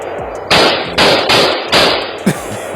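Gunshots in recorded footage of a rapper shooting: a quick volley of five loud, close, sharp bangs in an uneven rhythm, each followed by a brief echoing tail, with no voices.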